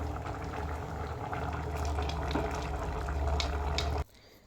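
Rinse water from a mixer jar is poured into a coconut curry of raw papaya, a splashing, gurgling stream for about four seconds that stops abruptly, leaving quiet.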